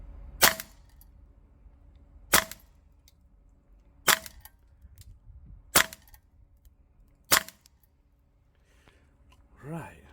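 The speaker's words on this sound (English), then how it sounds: "now it's the turn of the VFC MP7. Let's see what the rate of fire is with that" A VFC MP7A1 gas blowback airsoft gun fires five sharp single shots spaced about two seconds apart, each a crisp snapping crack, with faint background hum between them.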